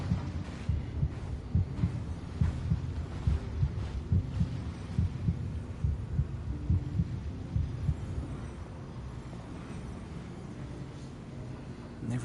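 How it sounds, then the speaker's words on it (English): Video game heartbeat effect, a low steady thumping pulse that quickens over a droning ambient hum, with some background sound layered beneath. "Heartbeat's getting faster."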